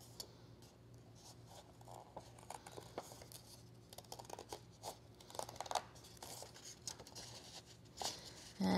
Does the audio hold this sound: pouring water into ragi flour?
no